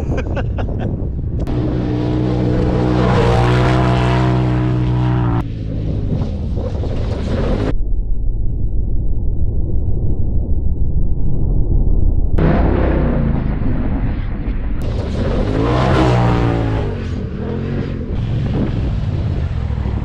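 A 2021 Polaris RZR Turbo S Dynamix side-by-side accelerates hard with the throttle floored. Its turbo engine roars loudly and climbs in pitch, drops away briefly, then surges again with heavy wind buffeting on the microphone.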